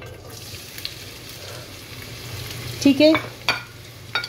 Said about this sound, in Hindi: सबसे पहले जो हमारी प्याज चॉप्ड हुई हुई है ये